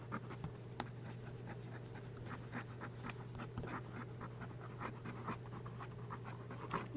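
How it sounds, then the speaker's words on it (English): A Bulow X530 fountain pen scratches quickly across paper in a steady run of dense, close, fast strokes, with a constant low hum in the background and no talking. "Fast writing."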